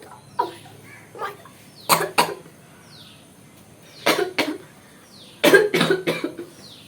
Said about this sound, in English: My cough, it's getting out of control.